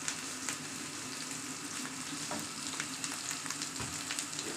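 Seasoned meat with salt sautéing for mahshi stuffing, a steady close sizzle and frying crackle with occasional stirring scrapes and pops, no talk.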